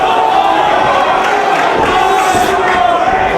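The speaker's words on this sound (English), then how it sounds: "The crowd calling for another one." Pro wrestling crowd at an ROH tournament show chants and cheers for another powerbomb, a loud, sustained roar of many voices with rhythmic swells, close and steady throughout.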